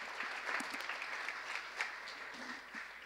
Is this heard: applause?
yes